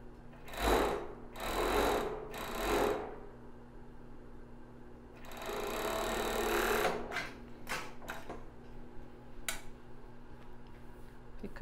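Sewing machine stitching a seam on a plus-size bra with raw elastic: three short bursts of running needle chatter, a pause, then a longer run and a few brief taps, close up with no talk.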